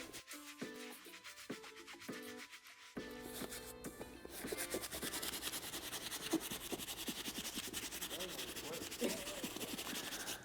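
Medium bristle brush scrubbing the midsole of an all-white shoe, rhythmic soft rubbing strokes that become denser and steadier after a few seconds, with background music and a voice partly over them.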